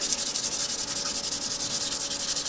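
Sandpaper rubbed back and forth over a surface in quick, regular strokes, a close, dry rasping with an even rhythm of about eight passes a second, alone with no voices.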